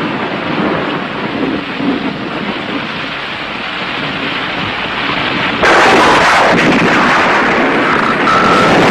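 Thunder rolls and rumbles through a heavy thunderstorm with steady rain, the sound swelling into a louder, sharper crack partway through and staying intense to the end.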